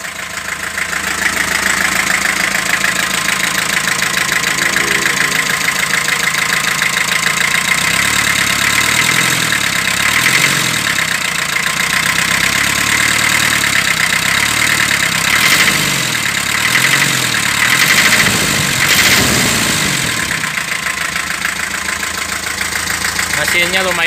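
A 1981 Daihatsu Delta diesel truck engine idles steadily and loudly throughout, with a continuous low rumble and some knocking texture, while someone talks over it.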